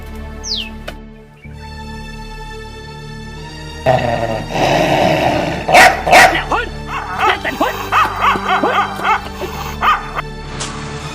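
A dog barks repeatedly at close range in a rapid, uneven series of sharp barks and yips that starts a few seconds in, with quieter tonal background sounds beforehand.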